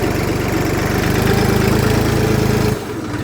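A Jinma 3244 mini tractor engine runs with reverse gear engaged, a loud, close, steady low chugging drone that cuts off abruptly near the end.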